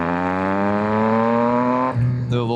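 A 2024 Yamaha XSR900 motorcycle with a flashed ECU pulls hard in second gear, its engine note climbing steadily and loudly up close before briefly dropping at a shift and rising again.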